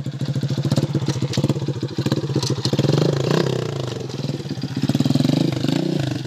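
Small mini trail motorcycle engine revving hard while pushing through deep mud, a rough pulsing drone that surges and dips, close and loud, with clattering and scraping mixed in.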